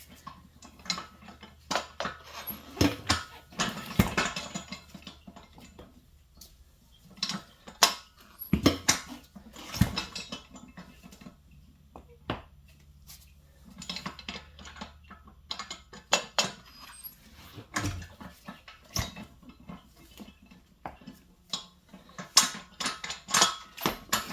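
A motorcycle tire bead is being broken loose on a manual tire machine, giving irregular metallic clanks, ratcheting clicks and knocks in scattered bursts at close range, with no talking.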